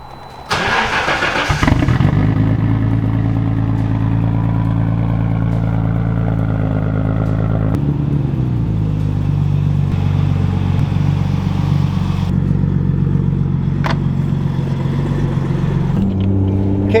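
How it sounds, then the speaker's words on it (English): A Nissan R32 GT-R on a drag setup cranks and fires on a cold start, then settles into a loud, steady, lumpy idle with mechanical clatter and a high whine, close to the microphone, with no talking. "Cold start, here we go."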